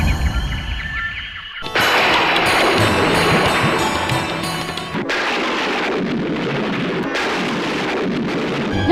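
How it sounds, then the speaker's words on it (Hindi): A heavy thunderstorm roars on as a dense, loud wash of rain and wind with rumbling swells, starting abruptly after a quieter moment and carrying on without pause. "यह तूफान तो थमने का नाम ही नहीं ले रहा है।"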